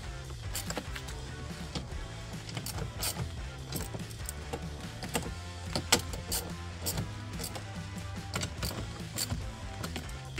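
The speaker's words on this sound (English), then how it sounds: "I'll use my ratchet and start tightening everything up" A ratchet tightens the mounting bolts of powered, heated, extendable towing mirrors on a 2007-2013 Chevrolet Silverado 1500, giving repeated clicking bursts of pawl ticks in an irregular rhythm, close and moderately loud over a low background hum.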